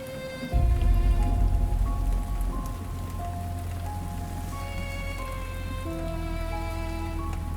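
Steady, heavy rain pours down close by at night in a village, starting suddenly after a short quiet moment and then holding an even wash of sound, with faint sustained tones running underneath.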